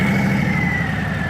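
A modified Harley-Davidson Fat Boy with a big-block V2 engine idles close and loud, a steady rumbling throb with a thin whine riding above it, and no voices.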